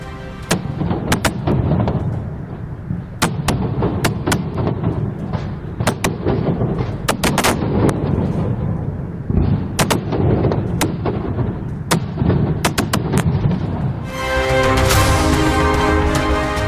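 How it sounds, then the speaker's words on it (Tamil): Repeated sharp explosive bangs of Diwali fireworks in Mumbai burst irregularly over a constant rumbling crowd-like din, some distant, some close and loud, ending in a different noisy stretch. "மும்பையில் தீபாவளியை முன்னிட்டு வானில் வர்ணஜாலம் படைத்த பட்டாசுகள்."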